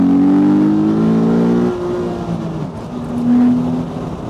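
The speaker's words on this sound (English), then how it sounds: "As it really pulls, it's the torquey engine." Morgan Roadster with a torquey engine pulling hard on a road, a strong rising drone that swells, dips as a gear is taken, then climbs again, loud and close throughout with no talk.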